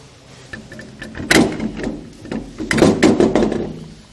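Spare tire being mounted onto a rear carrier, heard as scattered close thuds, scrapes and metallic knocks of rubber and steel shifting into place, with a couple of louder clunks midway, no talking.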